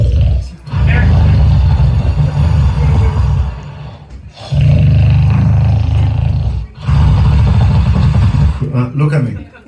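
A person imitates a lion's roar with three loud, drawn-out, throaty bursts separated by short pauses, close to the microphone and forceful.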